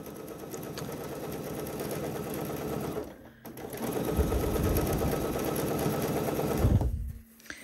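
A sewing machine runs steadily, stitching the collar facing of a dress bodice near the fold line, pauses briefly after about three seconds, then whirs on again before stopping near the end.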